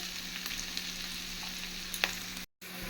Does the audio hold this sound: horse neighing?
no